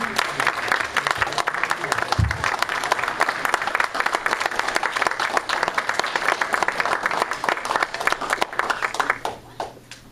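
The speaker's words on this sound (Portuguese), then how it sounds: "nós vamos dar uma salva de palmas para elas agora" Church congregation applauding together in a temple, dense sustained clapping at steady volume for about nine seconds before tapering off near the end, with no speech over it.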